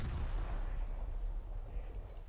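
Torpedo launched at a heavy cruiser in a naval video game, a dense, sustained low rumbling roar with a heavy bass boom, steady and loud for the whole stretch with no talk over it.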